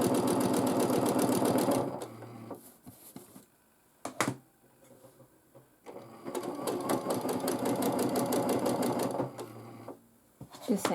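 A sewing machine quilts back and forth in close, rapid stitching bursts, two long runs and a few short ones, broken by quiet pauses with light handling clicks.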